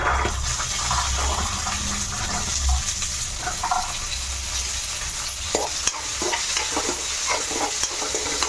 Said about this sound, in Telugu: ఇప్పుడు ఇందులో బఠానీలమ్మ ఇవి వేసేస్తున్నా.